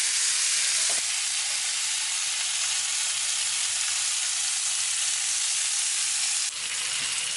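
Lamb chops brown in a hot pan with a loud, even sizzle and hiss that carries on without pause, a brief clatter near the start and another late on, no talking.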